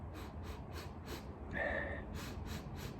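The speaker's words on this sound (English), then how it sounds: "Let's have a sniff." One person sniffs a glass of Tuborg Green, a clear Copenhagen lager with a big white head. Several short, close nasal breaths come in a rhythmic series, with a longer inhale partway through.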